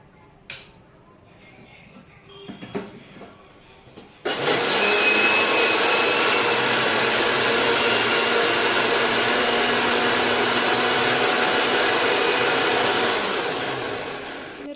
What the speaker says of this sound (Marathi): आता हे जाडसर मिक्सरला वाटून घेते मस्त